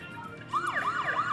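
In the video game Parasite Eve, a vehicle siren starts wailing partway through, its rising and falling tones sweeping repeatedly over a low background hum, fairly loud and with no speech.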